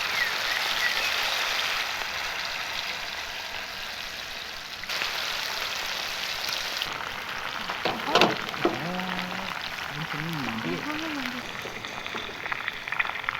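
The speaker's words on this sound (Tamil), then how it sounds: "மெரினேட் பண்ண சிக்கனை ஒவ்வொன்றா போட்டு பொரிச்சு எடுத்துக்குவோம்." Marinated chicken pieces frying in hot oil in a pan give a steady sizzling hiss throughout, with a few brief clatters and a voice speaking in the later part.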